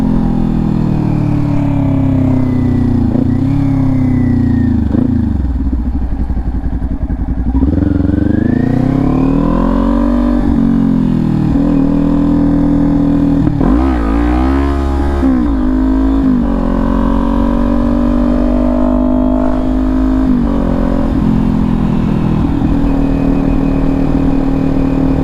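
A motorcycle engine roars up close while riding, its pitch rising and falling as it revs through gear changes and throttle swells.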